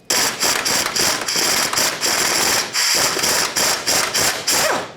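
A ratchet removes 12mm bolts from the shield under a Nissan Titan pickup, its clicking fast, loud and close in rapid bursts with short pauses and no talk.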